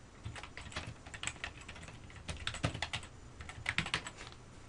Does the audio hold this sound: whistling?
no